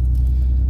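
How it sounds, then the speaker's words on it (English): Low, steady engine rumble from inside a pickup truck hitched to a big gooseneck stock trailer, a continuous close drone with no talk. "we're in the truck. We're hooked to the big old gooseneck stock trailer"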